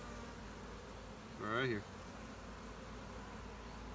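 Honeybees hum steadily during a beehive frame inspection, and one bee buzzes loudly past close by for a moment. A person speaks briefly.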